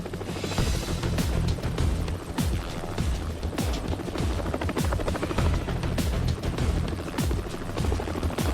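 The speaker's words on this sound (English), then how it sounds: "There's a powerful downwash from the cormorant's rotor." A Cormorant helicopter hovers over a moving icebreaker ship, its rotor throbbing steadily and loudly with a continuous rushing downwash and engine roar throughout.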